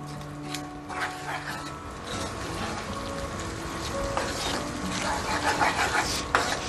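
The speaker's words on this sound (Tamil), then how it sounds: "கூடவே இந்த மசாலாவையும் நம்ம கொட்டி எல்லாம் சேர்த்து இப்போ கலந்து விட்டுக்கணும்" Masala and tomato being stirred together in a pan, a continuous scraping and rubbing with soft wet squelches that grow busier toward the end, with a voice speaking over it.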